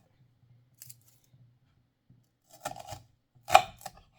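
A knife slices food for a simple breakfast dish, a few soft cuts followed by two sharper, louder chops against a board, close and alone.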